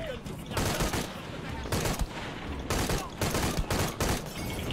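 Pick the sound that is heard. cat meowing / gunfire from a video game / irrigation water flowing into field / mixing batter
gunfire from a video game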